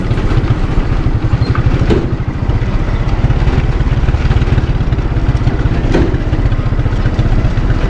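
Motorcycle engine running close by as the rider works the clutch, a loud, steady idling chug with rapid regular pulses and occasional clanks, no voices.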